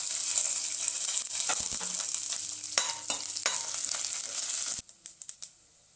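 Peanuts and dried red chillies frying in hot oil in a pan, a loud steady sizzle with stirring scrapes that cuts off abruptly, leaving a few quiet clinks and taps.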